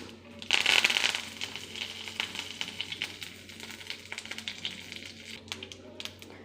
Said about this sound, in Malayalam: നമുക്ക് രണ്ട് കറിവേപ്പില ഇട്ട് കൊടുക്കാം